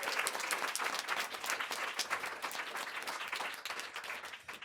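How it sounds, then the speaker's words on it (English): An audience at a university Three-Minute Thesis Challenge claps steadily for the participants, a dense, even round of applause lasting several seconds, moderately distant and without speech. "let's give a round of applause for our participants"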